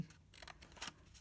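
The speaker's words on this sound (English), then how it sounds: "And then we need to cut into our box," Scissors snipping into a cardboard treat box, a few faint, close crisp cuts in quick succession in a quiet room.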